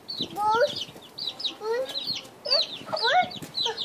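Chickens clucking in agitated bursts of squawks and calls while being chased, close and fairly loud, with a few short clucking phrases across the clip.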